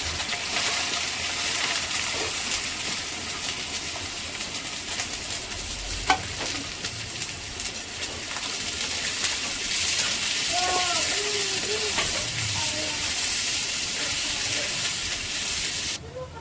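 Onions fry in heated oil, giving a continuous sizzling hiss with occasional stirring scrapes and bubbling, close by, while a person talks briefly over the cooking in a home kitchen.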